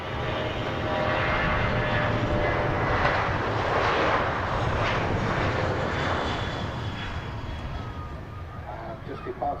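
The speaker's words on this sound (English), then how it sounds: "Ryanair just departing there in front of the 787 clean liner" A Ryanair jet roars loudly as it departs Manchester Airport, a broad sustained engine rush building and then slowly fading as it climbs away.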